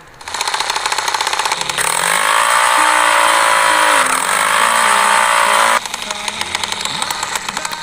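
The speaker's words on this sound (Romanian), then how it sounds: "Korang boleh dengar sound motor dia macam ni." Motorcycle engine in GTA San Andreas with a Malaysian mod, a steady loud droning roar that swells higher as it revs for a few seconds, then settles back to a lower idle.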